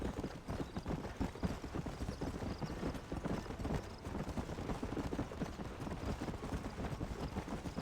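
In the Red Dead Redemption video game, a horse gallops steadily with rapid rhythmic hoofbeats throughout, close and continuous, with no talk over it.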